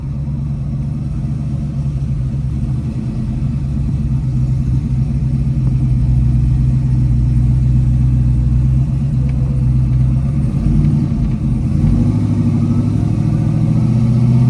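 A 1980 Chevrolet Malibu with a 6.0L engine, 4L60e transmission and 12-bolt rear accelerates, its deep, steady engine drone building smoothly and continuously from inside the car, with no talk.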